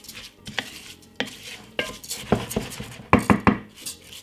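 A spoon stirs grated carrot into basmati rice in a pot, giving a series of sharp scraping clinks against the pot in an irregular rhythm, close and clear with no talk.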